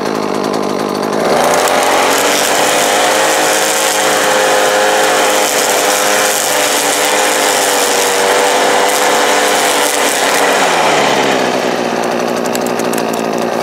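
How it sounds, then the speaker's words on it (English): A Makita EM2600L petrol string trimmer with 0.95 line cuts down weeds, its small two-stroke engine revving up to a loud sustained buzzing whine for about nine seconds before easing back toward idle. "So I'll just have a little bit of weeds here, and we'll trim them down."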